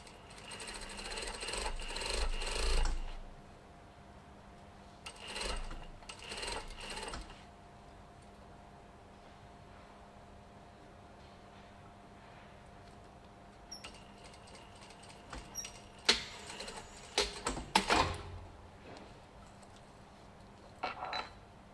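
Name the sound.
sewing machine sewing an invisible zip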